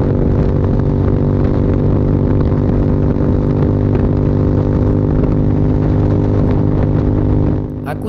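A Ducati Monster 796 motorcycle engine on a highway ride from Sungai Besi toward Seremban, holding a steady, loud, close-up droning hum throughout that eases off slightly in the final moment.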